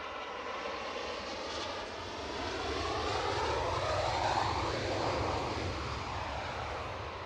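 An Airbus A320neo's engines produce a broad, steady roar that swells toward the middle and eases slightly, heard continuously at an airport with no talk.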